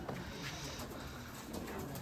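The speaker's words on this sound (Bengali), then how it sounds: "সেজন্য কবুতর দেখাবো" Giribaj pigeons in a Rajshahi loft coo softly and low under faint background noise, with a soft murmuring call.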